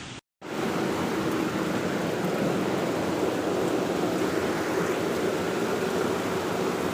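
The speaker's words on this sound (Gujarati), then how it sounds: "અત્યારે વરસાદ છે ફૂલ ધોધમાર" Heavy rain pours down steadily after a brief silent gap at the start, forming a dense, constant roar of falling water with no voices.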